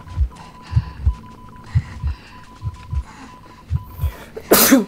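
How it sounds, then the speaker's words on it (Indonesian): A game character in Identity V sneezes once, loud and close, near the end. Before that, a steady rhythmic heartbeat thumps under a low hum. "akhirnya bersin."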